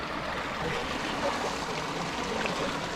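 Hot spring water in Utah flowing out and feeding a series of turquoise pools, a steady, soft rushing trickle with no voices, even in level from start to finish.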